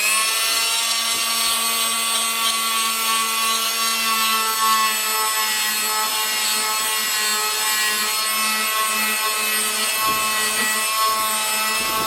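A Fein Supercut oscillating multitool blade scrapes old glue off a surface in a restoration job, giving a steady, loud, high-pitched buzzing rasp with a constant whine that runs unbroken throughout.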